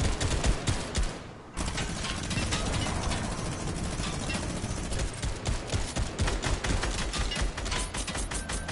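Rapid gunfire in Fortnite Battle Royale crackles as continuous bursts of shots over engine-like game noise, with a brief dip before the firing resumes steadily.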